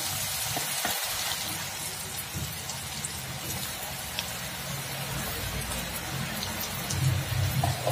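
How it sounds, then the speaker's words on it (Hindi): Potatoes coated in cornflour hiss and crackle steadily as they second-fry in hot oil for honey chilli potatoes, a dense, continuous sizzle with a few brief low thumps early on and a slight swell near the end. "अब हम सेकंड फ्राई करेंगे अब ये गरम तेल में होगा"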